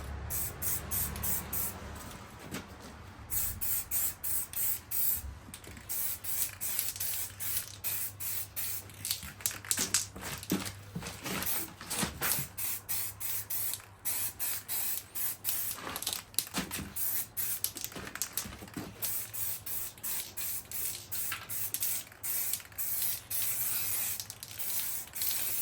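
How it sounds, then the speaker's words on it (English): A spray can paints the brake discs of a Volkswagen Caddy in repeated close hissing bursts, some short and some sustained, separated by brief pauses and soft clicks from handling, with no talking. "Right, I'm going to spray this one and I'll get back to you on the other side."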